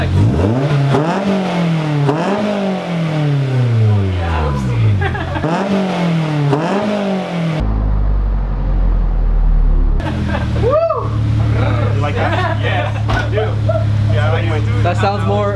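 A Honda S2000 engine with an aftermarket exhaust revs hard several times with a deep, throaty exhaust note, then settles into a rumbling idle with people talking over it.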